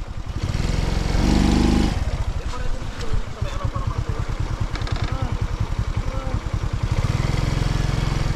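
A motorcycle engine runs close by at a water crossing, its loud rapid chugging pulsing steadily and briefly surging in pitch, with no talk over it.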